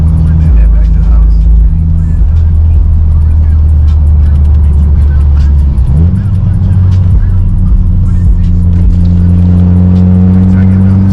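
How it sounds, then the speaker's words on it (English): Mitsubishi Evo 8 with a screamer pipe exhaust pulling from inside the cabin, a steady loud drone that briefly dips and then climbs as the revs rise, with faint talk underneath. "Open the window so y'all can hear the screamer pipe"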